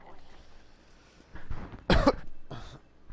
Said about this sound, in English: You're gonna have to sit through my coughing.